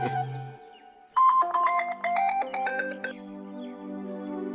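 A mobile phone rings in a Hindi TV drama, playing a bright melodic ringtone of chiming electronic notes that repeat for several seconds with no talk over it.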